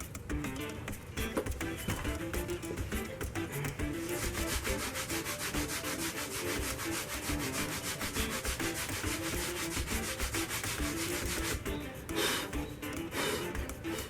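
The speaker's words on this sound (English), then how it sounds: "wood filler is easier to sand and rasp than actual wood" Steady, close abrasive rubbing of sandpaper over wood filler on a carved wooden sword, continuing for several seconds with a fast scratchy texture and slight pauses, and no one speaking.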